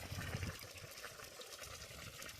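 Water gushes and splashes steadily from a pipe fed by a solar-powered DC submersible well pump, a continuous close rushing sound with no talking.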